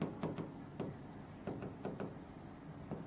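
Chalk or marker tapping and scraping on a classroom board while a heading is written, a few quick strokes in an irregular rhythm, close and moderately quiet.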